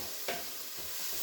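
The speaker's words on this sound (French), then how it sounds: "Donc là, vous faites rissoler vos oignons." Finely sliced onions sautéing in a pan make a brief, soft sizzle with one quick stirring scrape near the start.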